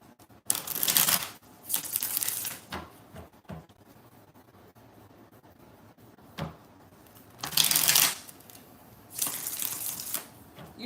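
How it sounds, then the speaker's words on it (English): Tarot cards being shuffled, several bursts of riffling and flapping card noise separated by quieter gaps, close and moderately loud. "One more shuffle."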